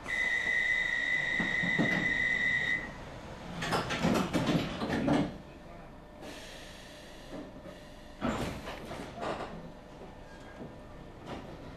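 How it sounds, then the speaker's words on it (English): A steady electronic warning tone, then London Underground Metropolitan line train doors slide shut with a rushing clatter and thud, followed by another rumbling burst of rail noise. "Stay clear by the closing doors."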